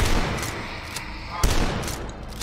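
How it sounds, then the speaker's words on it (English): A super shotgun fires in the retro shooter DUSK with one sharp, punchy blast partway through, set against a dense, noisy game soundscape of rumble and scattered impacts. "Want a super shotgun."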